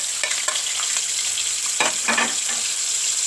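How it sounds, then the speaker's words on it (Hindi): Tomatoes with ginger-garlic paste sizzle and fry in a pan for a spinach curry, a steady crackling hiss with a few louder bursts of stirring, close and continuous, with no talking. "अब हम ये अच्छे से भून लेंगे"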